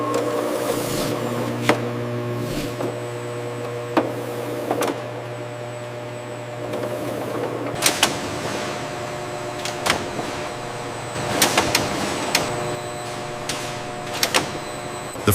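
A peach slicing machine in a canning plant runs with a steady mechanical hum. Sharp clacks and bursts of whirring come at irregular intervals as peach halves feed through.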